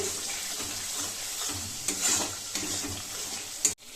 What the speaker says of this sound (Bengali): টক দইটাও ভালোভাবে এইভাবে মিশিয়ে নেব সব মশলার সাথে